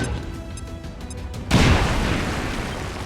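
A frag grenade goes off in a video game, a sudden loud boom halfway through that sets off a sustained, rumbling, noisy blast tail over the game's faint background tones.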